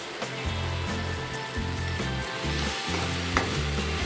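Asafoetida sizzles in hot oil in a pan while gawar bhaji is being cooked, a steady crackling hiss over soft background music.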